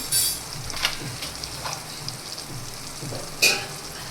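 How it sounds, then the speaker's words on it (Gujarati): Curry frying in a pan as garam masala, coriander-cumin powder and salt go in: a steady close sizzle with a few soft taps and a sharper clink near the end, no voices. "ચપટી ગરમ મસાલો, ધાણા જીરું પાવડર, સ્વાદ પ્રમાણે મીઠું નાખી દઈશું"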